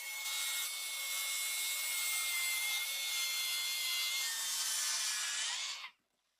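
A saw makes a lengthwise rip cut through an IKEA kitchen worktop, a steady, loud, hissing cut sustained for about six seconds before stopping abruptly.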